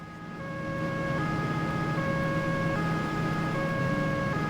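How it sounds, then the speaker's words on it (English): Wailing police siren in the driving game Crash Time 3, rising from a faint start into a steady, stepping electronic two-tone wail heard alone at moderate loudness. "I'll turn on the sirens."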